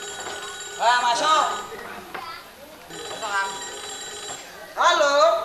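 Telephone bell ringing in repeated bursts during a kethoprak stage performance, with voices talking between and over the rings.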